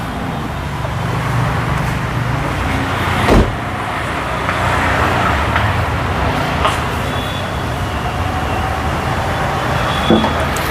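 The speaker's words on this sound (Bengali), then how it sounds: "ইঞ্জিনের সাউন্ডটা শোনানোর জন্য স্টার্টে রাখছি" A 2000cc Honda CR-V engine runs steadily at idle, a constant motor hum with a few brief knocks and clicks and no talking over it.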